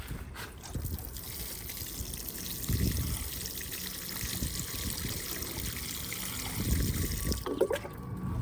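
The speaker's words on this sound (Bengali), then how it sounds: "ফুল গাছ লাগানোর পরে এখন আমি দিয়ে দিচ্ছি জল, অনেক পরিমাণে জল দিচ্ছি।" Water is poured onto newly planted flower plants in a home garden, a steady soft trickle and splash that continues throughout at moderate distance with no talking.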